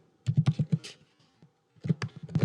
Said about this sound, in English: I'll have to type it again.